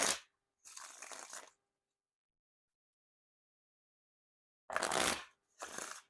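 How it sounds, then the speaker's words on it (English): Bicycle AutoBike No.1 playing cards, a stiff thick-stock deck, riffle or bridge shuffled: two pairs of short crisp bursts of fluttering card clicks, fairly close, with silence in between and no talking. "And now time for the riffle shuffle or bridge shuffle."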